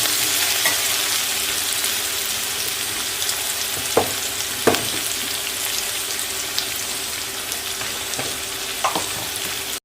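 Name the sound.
onions frying in oil with curry leaves and pepper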